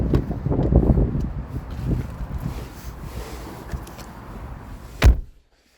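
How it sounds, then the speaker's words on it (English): A Toyota Aygo X hatchback's door clunks shut with a sharp, solid thud near the end, preceded by rustling, handling noise and light wind. "you hear it when you open up and close the doors"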